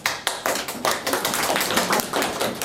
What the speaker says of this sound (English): So can we clap our hands?